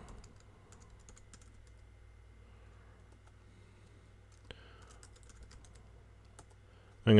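Quiet, steady keystrokes on a computer keyboard tap in an irregular rhythm against a low electrical hum, close but soft, ending in a brief louder click.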